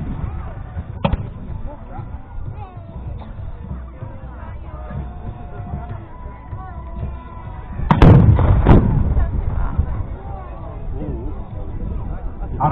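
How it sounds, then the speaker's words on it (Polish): Cannon fire in a 1627-set video game battle: a sharp report early on, then a louder pair of booming blasts in the middle over continuous battle din and background voices. "Armaty również nie próżnowały, prowadząc ostrzał zarówno z jednej, jak i z drugiej strony"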